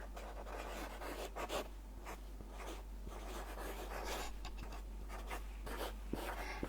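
Pen writing on paper in steady scratching strokes, close and clear over a low constant hum, with no talk.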